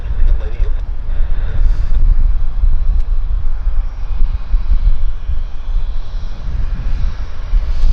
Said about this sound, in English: there's a little light aircraft coming out. That is a Piper Cherokee